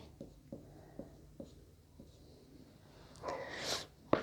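Equations being written on a board during a chemistry lecture: a series of soft, evenly spaced taps of the pen or chalk, then a louder stretch of scratchy writing strokes ending in a sharp tap.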